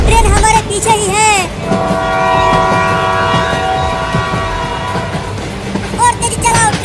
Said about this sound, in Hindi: ट्रेन पास आती जा रही है।